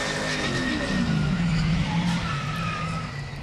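A race car skids and squeals through a wobbly save during qualifying at the 2009 Ford 400, clipping the wall with its right rear; loud, sustained tire and engine roar with no talk, easing slightly at the end.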